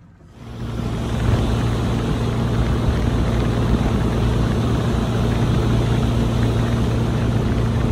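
A loaded motorboat's engine starts and settles into a loud, steady drone with a low hum, running continuously and close as the boat sets off from shore on calm water.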